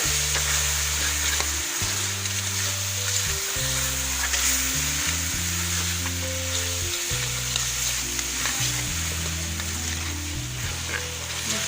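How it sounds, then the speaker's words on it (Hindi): Spices for aloo methi fry and sizzle in a pan with a bright, constant crackle, while stirring scrapes through and steady background music plays underneath. "मैं शामिल कर रही हूँ सारे मसाले।"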